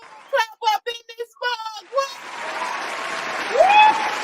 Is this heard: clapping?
yes